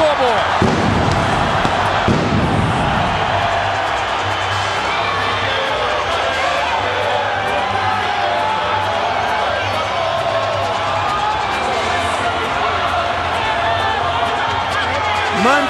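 A large arena crowd roars with steady cheering and shouting through a boxing match entrance, a loud continuous wall of noise with brief sharp accents at the start.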